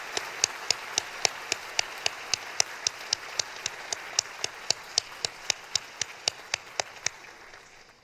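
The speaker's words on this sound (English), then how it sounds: "Let's give those students a lot of applause." An audience at a high school senior award ceremony claps in a steady, even rhythm of sharp, evenly spaced claps over a dense wash of crowd noise, thinning out toward the end.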